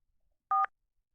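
A single brief telephone dialing tone sounds in the Tex Murphy Overseer video game, one clean beep in near silence.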